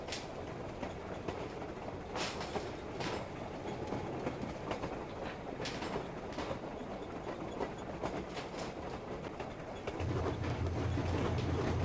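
Train rolling on rails in the game Metro Exodus, a steady rumbling ride with rhythmic clickety-clack bursts and squeaks, a deeper hum joining near the end; no voices.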